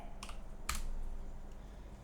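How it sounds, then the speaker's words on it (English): A computer keyboard sounds as someone types a name: a couple of quiet, close keystroke clicks over a steady low hum. "Now, type your name."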